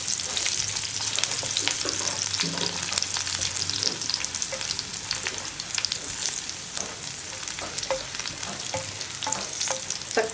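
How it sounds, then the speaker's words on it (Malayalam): Garlic and dried red chillies frying in a pan, a steady close sizzle with crackling pops and occasional stirring scrapes throughout. "വറ്റൽമുളകിൻ്റെ കൂടെ തന്നെ ഞാനിപ്പോൾ വെളുത്തുള്ളി ചേർക്കുകയാണ്."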